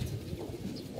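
Pet pigeon cooing softly in a loft, a faint low murmuring coo lasting about a second with no talk.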